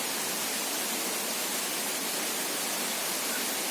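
Water crashing steadily down Grobogan Sewu waterfall over limestone rock, a dense, continuous broadband roar at even loudness throughout, with no voices.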